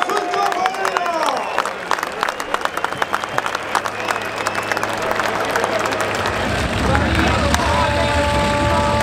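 Crowd at a heavy modified 4.0 t Eurocup tractor pulling event in the Füchtorf Arena claps in a dense, crackling burst that fades after a few seconds, mixed with crowd noise and a loud announcer's voice over the top.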